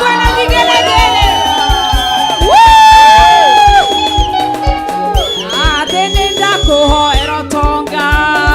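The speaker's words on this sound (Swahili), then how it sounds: "wapi makofi na shangwe na vigelegele" A church congregation at monthly prayers claps in a steady rhythm, cheering and ululating loudly over singing voices throughout.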